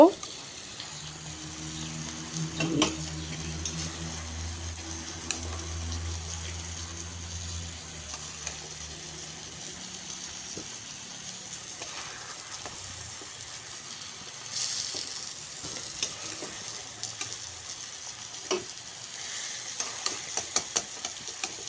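Fish fry in hot oil in a home kitchen pan, with a steady crackling sizzle and scraping stirs, then occasional clinks as the pieces are lifted out and the sizzle thins.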